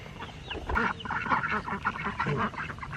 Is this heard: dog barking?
no